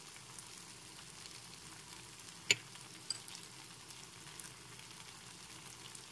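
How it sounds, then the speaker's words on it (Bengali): Spice masala with chilli and coriander powder and salt fries gently in oil for a fish egg curry, a faint, steady low sizzle with one sharp clink partway through. "এখন মশলাটাকে আরো 2 মিনিট মতো কষিয়ে নিচ্ছি, মশলা থেকে তেল ছেড়ে আসা পর্যন্ত"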